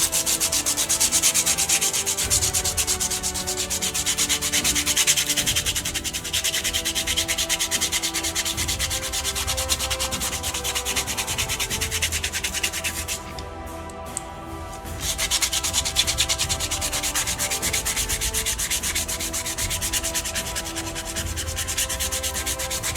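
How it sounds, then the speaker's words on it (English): Fine grit sandpaper smooths a miniature with continuous close rubbing strokes, a steady raspy scratching that pauses briefly partway through before resuming alone. "I'm taking some fine grit sandpaper to carefully smoothing out those areas"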